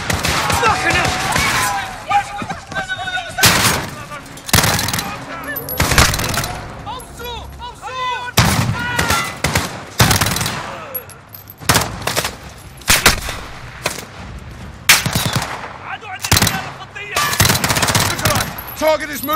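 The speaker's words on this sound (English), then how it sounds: "The gunshots, of course." Automatic rifle fire in a Call of Duty: Modern Warfare 2019 gameplay trailer, loud rapid bursts and single shots crackling in repeated volleys over shouted dialogue and background score.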